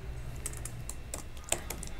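Code being typed on a computer keyboard: a steady run of light, quick keystrokes at close range, with one sharper key tap standing out, and no voices.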